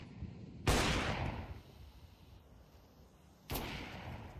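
Two sharp gunshots boom in a tactical shooter video game during a competitive match, about three seconds apart, each followed by a long echoing decay.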